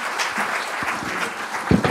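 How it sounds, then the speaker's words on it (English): Book launch audience gives a brief, even burst of applause, many hands clapping at moderate loudness in a room, with a low voice or thump near the end. "please give yourself a round of applause as well as for the author"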